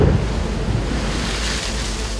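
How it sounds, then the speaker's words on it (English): Loud, continuous surf washing and crashing nearby on a rocky shore in big seas, a broad roaring wash of water with no voices. "When the tide's coming in and you've got big seas, it's just this pounding sound all the time."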